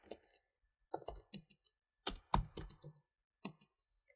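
Keys tapped on a computer keyboard while naming a fabric in CLO 3D design software, short irregular bursts of crisp clicks with pauses between, close and alone.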